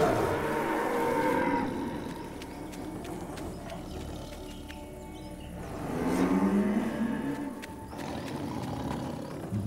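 A cartoon buffalo in a Hindi Jungle Book animated series lets out deep lowing moos in two swells, with no one speaking.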